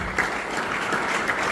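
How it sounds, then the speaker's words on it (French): Steady applause from an audience at a public gathering in Sud-Ubangi as a second speaker is invited onto the stage, a dense even patter of clapping with a few brief swells, close and continuous without voices. "On applaudit"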